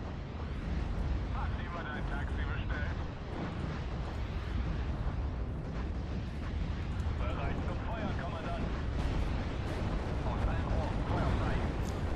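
Gunfire and explosions in the Steel Division Normandy 44 war game during the Pegasus Bridge battle: a dense, continuous roar of shots and booms, loud and steady throughout.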